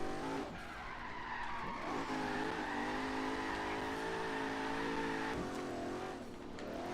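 A 1972 Mercedes 300SEL drift build with over 750 ft-lbs of torque skidding and sliding, its tires squealing and engine roaring in a sustained, loud, wavering drone.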